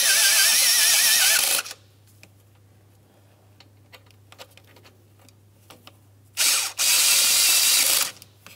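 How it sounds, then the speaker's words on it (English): Hand ratchet snugging EGR tube adapter mounting bolts on a 1998-2002 Lincoln Navigator, two loud, rapid clicking bursts near the mic separated by a quiet pause. "We're going to snug both of these mounting bolts as well"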